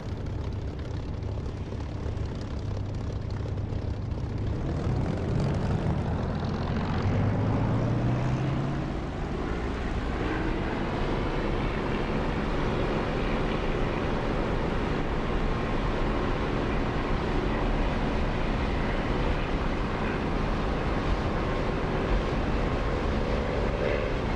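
A propeller aircraft takes off in the DCS flight simulator game. Its engine throttles up into a loud, continuous roar, the pitch climbing steadily during the first several seconds and then holding as a sustained drone.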